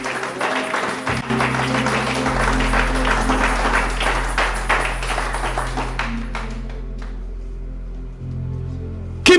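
A church congregation applauds and acclaims Jesus, with dense, sustained clapping from a full room that rises and continues for several seconds, then tapers as an organ-like low tone holds underneath.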